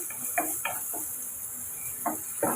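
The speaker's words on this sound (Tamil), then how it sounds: "இதெல்லாம் சேர்த்து நம்ம வதக்கி விட்டுக்கலாம்." Steady sizzle of onions and capsicum sautéing in a pan, with a few soft scraping stirs and light clinks scattered throughout.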